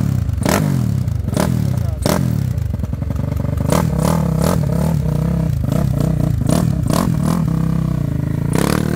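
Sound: Twister 79mm motorcycle riding and shifting gears on street

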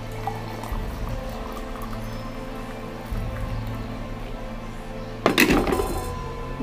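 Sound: pouring hot water into a glass

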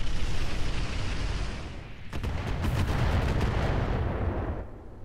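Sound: artillery barrage in the video game Roguetech

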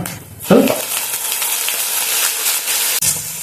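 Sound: hot water poured into sizzling paneer jalfrezi pan

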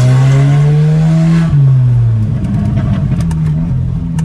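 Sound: remapped Audi Q3 1.4 TSI engine revving on test drive

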